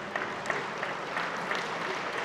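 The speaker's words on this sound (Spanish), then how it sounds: "aplausos del público para el último saque de Víctor Esteban en el partido." An audience applauds at a Basque pelota match after the final serve, a steady patter of clapping from a modest crowd heard at moderate distance, with no speech over it.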